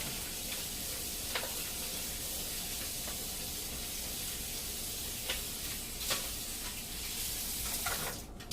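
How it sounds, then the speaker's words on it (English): Steak sizzles steadily in a hot pan, a constant hiss with occasional sharper pops and crackles. "I don't know if you can hear it yet, but it's frying."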